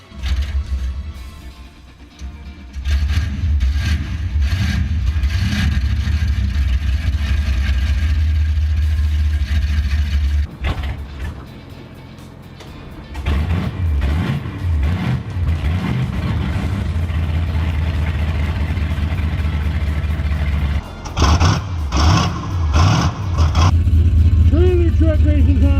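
Truck engines roar and rev in a trailer racing video game, a loud steady drone with shifting pitch and several sudden cuts and restarts across about 25 seconds, with people talking over the engine noise at times.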